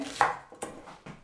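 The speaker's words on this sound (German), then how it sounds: "Jetzt schneide ich die Frühlingszwiebel klein, genau." A knife chops spring onions into rings on a cutting board, three or four crisp close thuds in a quick uneven rhythm.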